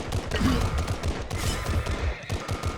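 A submachine gun firing in the mobile game Glory Frontline, rapid repeated shots in an uneven stuttering rhythm over a busy rumbling battle backdrop, fairly loud and close throughout.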